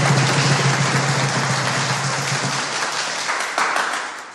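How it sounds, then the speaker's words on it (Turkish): A studio audience applauds steadily, fairly loud and sustained, as a contestant is introduced on stage, the clapping thinning slightly toward the end with no talk over it. "Alkışlar lütfen."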